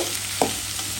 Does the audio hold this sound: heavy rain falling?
no